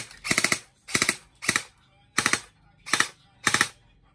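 A G&G ARP9 Stealth airsoft AEG rifle fires six short bursts of about three quick clicking shots each, evenly spaced with brief pauses between, crisp and close with no talk over them.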